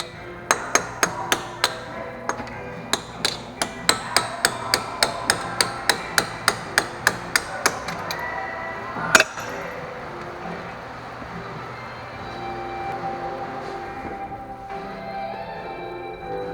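A hammer strikes a punch to drive out the CV axle pin on a 2002 Subaru Outback, giving about twenty sharp, ringing metallic blows in a steady rhythm that ends with one final harder hit. Quiet shop background follows the blows.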